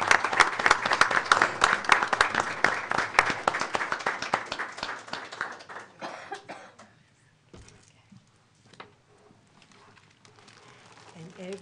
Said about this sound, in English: I would ask you to join me in giving her a round of applause